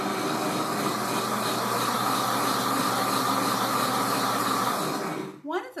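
A Pampered Chef Deluxe Cooking Blender whirs continuously while blending lemon curd, a loud, even motor roar and rushing hiss that stops abruptly near the end, followed briefly by a voice.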